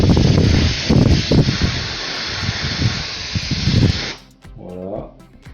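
An aerosol spray can blasts cleaner into the 5.25-inch floppy drive of an Atari ST in a steady, close hiss lasting about four seconds, then cuts off, followed by a brief voice.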